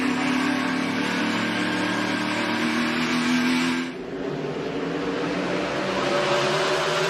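NASCAR stock cars roar loudly as they accelerate on a restart at Charlotte, a dense sustained engine drone with a brief dip before the pack noise surges on.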